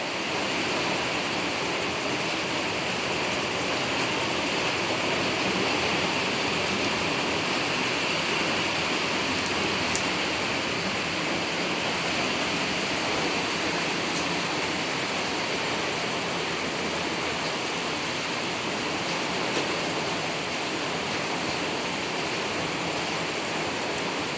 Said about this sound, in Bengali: থেকে থেকে পুরো হাওয়া আর পুরো বৃষ্টি হচ্ছে